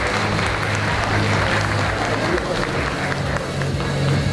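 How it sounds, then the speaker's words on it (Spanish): A crowd at the opening of the Miss and Mister Chiclayo 2023 pageant applauds the event organizer Eduardo, loud continuous clapping mixed with crowd babble and a low musical hum underneath. "Aplausos para el señor Eduardo."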